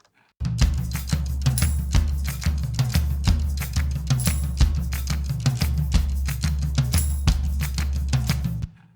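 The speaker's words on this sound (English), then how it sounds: "this is me clapping" A percussion track built from six layered recordings of one person's hand claps, a dense steady rhythm of sharp claps that starts abruptly and runs unbroken for about eight seconds before stopping.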